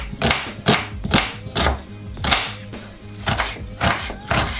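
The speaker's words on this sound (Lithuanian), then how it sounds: "Pirmiausiai supjaustam svogūną." A knife chops an onion into cubes for traditional Lithuanian herring, with about nine or ten steady, close, crisp strokes on a board in an even rhythm.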